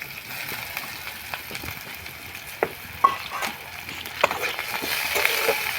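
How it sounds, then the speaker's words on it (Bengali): Bori, shukti and garlic fry in oil in a pan, giving a soft, steady sizzle with scattered scrapes and clatters of stirring that grow a little louder near the end. "বড়ি আর শুক্তি ভাজা হয়ে গেছে"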